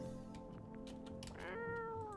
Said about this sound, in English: Kitty! Real kitty! Pet the cat.